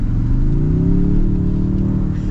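A 2024 Toyota Tundra Capstone pickup engine pulls under acceleration, a steady low droning growl with rising harmonic tones, close and loud from inside the cab for a couple of seconds.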